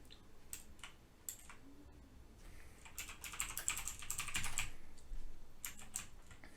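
Quick bursts of computer keyboard typing, close and clear, with rapid clicky keystrokes that thicken into a dense flurry midway and continue in short runs with no one talking.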